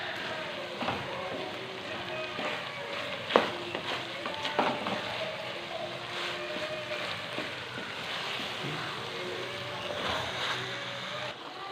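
Five or six slit green chillies fry in a pan with a soft, continuous sizzle. The sound is fairly quiet, with occasional light clinks and scrapes over the crackle.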